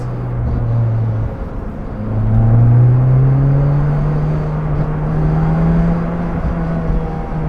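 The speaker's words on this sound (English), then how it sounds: "Oh man, listen to that intake sound." Lotus Elise with a Larini exhaust cruising on the road, its engine intake droning and rising in pitch as it accelerates, a loud steady whir with a smooth upward sweep and no talking.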